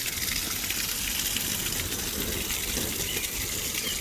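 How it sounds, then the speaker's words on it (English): Water gushing steadily onto a compost bed of worms, a continuous broadband splashing and hiss that stays even and close throughout. "I'm going to really soak down this bed."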